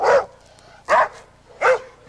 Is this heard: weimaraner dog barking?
yes